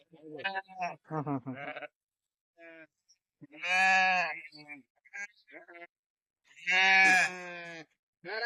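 Sheep bleating close by, two long loud bleats separated by pauses, mixed with people talking among the flock and lambs.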